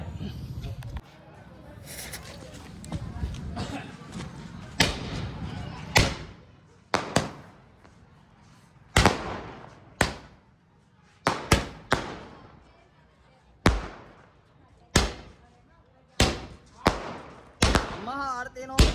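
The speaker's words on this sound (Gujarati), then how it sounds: "મહાઆરતીનું આયોજન થઈ રહ્યું છે ત્યારે લોકો ફટાકડા ફોડે છે." Firecrackers burst during a midnight maha aarti at a village temple on the day of a Ram rath yatra, giving a dozen or more sharp, loud bangs at irregular intervals. Crowd noise and voices carry between the blasts.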